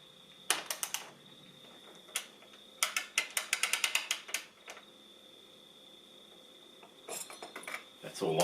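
A ratchet tightens a bike's bottom bracket in short bursts of crisp, close metallic clicks, with rapid runs separated by brief pauses in an otherwise quiet room.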